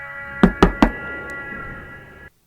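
Three sharp knocks on a front door, evenly spaced and close by, part of a scary story, set against a steady tonal background hum with no talking.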